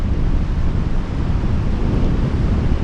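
Waves surge up the very shallow beach at Oxwich Bay on the Gower, a loud continuous roar of rushing surf mixed with wind buffeting the microphone.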